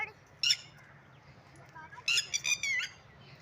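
Harsh bird squawks in two bursts, a short one early and a longer cluster of repeated calls near the end, from a bird near its nest of eggs in Yasmin Garden, Islamabad, over steady low background hum.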